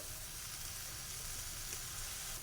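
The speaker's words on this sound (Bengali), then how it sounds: "মশলাটাকে ভালো করে কষলাম" Spice paste (masala) being fried and stirred in a pan, a dense constant sizzle close up with a low stirring rumble underneath, no talk.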